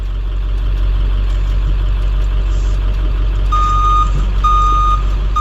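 A steady electronic reversing beeper on a 2003 IC CE200 school bus with a 7.3L T444E engine repeats over a low, rumbling idling engine, the tones starting partway through and pulsing at a regular interval.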